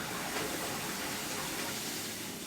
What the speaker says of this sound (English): Jay just flushed the toilet.